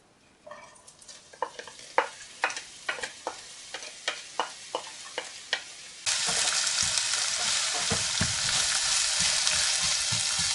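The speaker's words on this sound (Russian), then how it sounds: "а теперь лук будем жарить до румяного цвета, до золотистого цвета" Onions sizzling as they fry in a pan with repeated stirring scrapes, then a louder, steady hiss of frying takes over for the second half.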